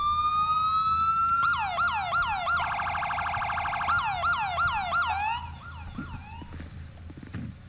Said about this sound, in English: we did change the siren on them